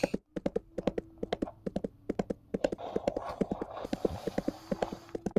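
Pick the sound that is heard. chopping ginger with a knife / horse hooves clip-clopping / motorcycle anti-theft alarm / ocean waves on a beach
horse hooves clip-clopping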